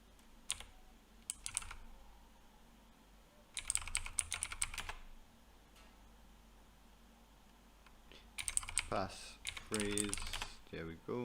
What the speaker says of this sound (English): I made a little mistake with my typing my password.